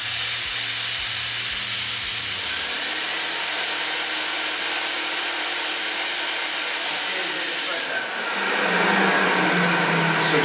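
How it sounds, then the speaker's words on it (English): A loud, steady hiss of steam with a vacuum motor drone running continuously from a dry steam extraction cleaner, a few low clicks at the start. "you can use the vacuum and the steam at the same time."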